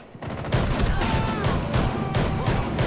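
Rapid gunfire fills a Rainbow Six Siege match: dense, loud bursts of shots rattle continuously with metallic clatter, close and overlapping, with no voices on top.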